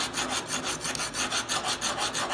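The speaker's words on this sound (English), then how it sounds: "first we're gonna use a knife sharpener" A hoof knife is drawn across a knife sharpener in steady, rhythmic strokes, giving a close, dry rasping scrape repeated about nine times with no voices.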